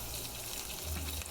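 Onions frying in hot oil in a pan, a steady close sizzle with a soft watery hiss running throughout, alone without talk.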